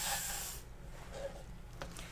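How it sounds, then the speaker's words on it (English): A short burst of WD-40 silicone aerosol spray hisses onto a canvas at the start, then fades into quiet room noise with faint rustling. "I'm going to spray it first with my WD-40 silicone spray."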